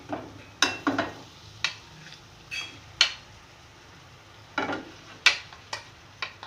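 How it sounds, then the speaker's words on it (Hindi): A spoon scrapes and clatters against a pan as mashed potato bharta is stirred and mixed in, giving a string of sharp, uneven knocks and scrapes close by, with faint sizzling between them and no talking. "अब इसके अंदर में ये भुर्ता जो मैंने आलू मैश करके रखे हैं ये मैं डाल दूँगी इसके अंदर।"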